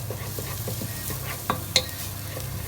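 Onions, garlic and seeded hot chilies frying in a pan for chilli con carne give a steady close sizzle with stirring, a few soft scrapes and one sharper clink of a utensil against the pan.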